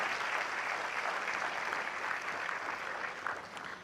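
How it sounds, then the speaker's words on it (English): Sustained applause from a graduation ceremony crowd at the Virgin Islands School of Technical Studies, dense steady clapping throughout, fading slightly near the end, with no talk over it. "Give our graduates a round of applause"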